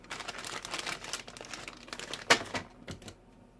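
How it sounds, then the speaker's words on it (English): Bags of parts from a Revell 1960 Chevy Impala plastic model kit are snipped and crinkled open up close, quiet papery rustling with a brief sharp plastic crackle midway. "Eight bags, let's cut them open."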